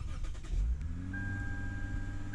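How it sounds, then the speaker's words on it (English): A 2008 Lexus IS engine starting after a transmission replacement: a brief cranking burst, then the engine catches and settles into a steady, fairly high idle with a whining tone, close and alone. "We're going to put that on and start up the car."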